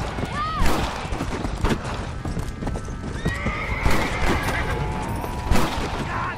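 A horse in Red Dead Redemption: Undead Nightmare lets out a short whinny amid steady clip-clopping hooves, with scattered sharp knocks and a busy game soundscape around it.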